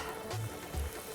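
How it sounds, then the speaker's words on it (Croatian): Buttered pastry dough fries in a pan, giving a brief, close, steady sizzle with a couple of soft low bumps and no talking. "Idemo mi sad na prženje."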